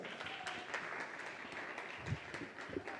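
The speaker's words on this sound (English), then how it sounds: "Give them another round of applause." An audience applauds robotics team members at an opening ceremony in Jamaica with steady, moderately faint clapping that comes from across the room and carries on for a few seconds.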